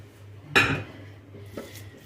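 Food being placed into a Borcam glass baking tray for an Urfa-style potato içli köfte bake gives a clattering clink followed by softer scraping, then a second lighter knock about a second later, close and fairly quiet.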